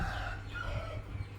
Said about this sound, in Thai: มันจะมาพร้อมเสียงไก่ขันนะคะ